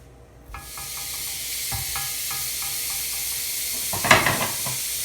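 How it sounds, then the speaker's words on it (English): A burger patty hits a hot pan and breaks into a loud, steady sizzle, with a few faint clinks and a brief burst of louder spitting near the end. "Now that we have a hot pan, we're ready to add our burger."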